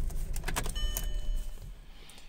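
Key turned to switch off a 2009 Audi TT 2.0L TFSI petrol S Line with a gearbox fault: a few close metallic key jingles and clicks, then a brief electronic chime tone over a low steady hum.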